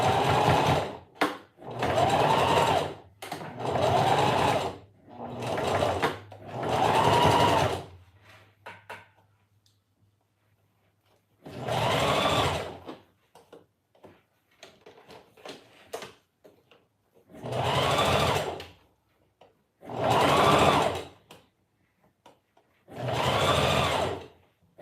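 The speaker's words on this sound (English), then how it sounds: "I'll just start sewing. And of course, in the beginning, I'm going to reverse my stitch just to secure it." A sewing machine stitches fabric in repeated short bursts, with several quick back-and-forth runs at the start to reverse-stitch, then longer pauses between later runs; the sound is close and clear with no talking.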